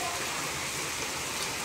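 Steady rain falls throughout, a dense, even hiss of drops on surfaces that stays constant and fairly loud from start to finish, with no voices.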